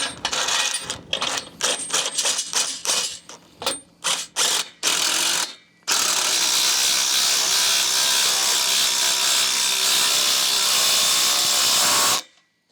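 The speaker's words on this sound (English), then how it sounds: "I'm gonna run these 1/2" lag bolts in through this." Half-inch lag bolts are driven into a wood frame for a solar array mount, probably with an impact tool. A run of short, rapid ratcheting bursts is followed by one long, steady, loud whirring drive, with no talk.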